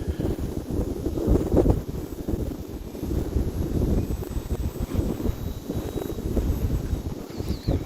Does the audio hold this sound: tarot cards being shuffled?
no